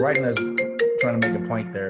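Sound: mobile phone ringtone

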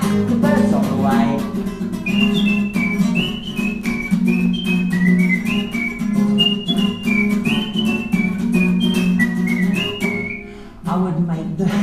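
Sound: person whistling

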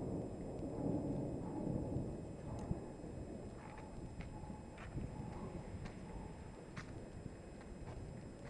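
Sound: thunderstorm with thunder and rain in Brindisi

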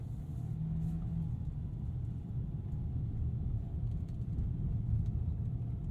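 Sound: Ford Maverick Tremor pickup engine driving off

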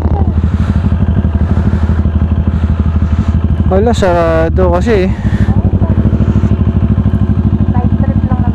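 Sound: motorcycle engine while riding

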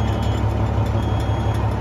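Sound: truck engine idling after a cold start

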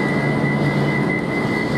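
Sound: Avanti West Coast Class 390 train arriving at London Euston

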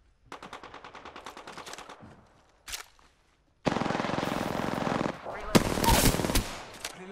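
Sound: gunfire in a video game

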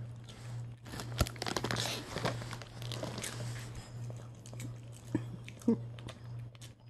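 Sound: child eating popcorn

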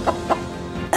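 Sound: bird clucking

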